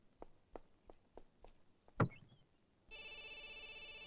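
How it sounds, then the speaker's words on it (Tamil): Faint footsteps tap across a room, followed by a louder knock, and then a telephone begins ringing with a steady electronic tone that continues to the end. "போன் சார் அட்டெண்ட் பண்ணுங்க"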